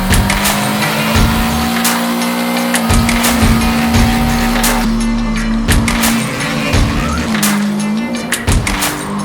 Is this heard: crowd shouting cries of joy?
no